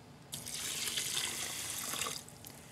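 Steady rush of cold water pouring into a rice cooker for about two seconds, close and fairly loud, then stopping, with no talking.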